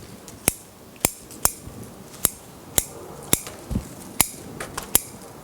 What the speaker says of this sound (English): We trim to the outline first.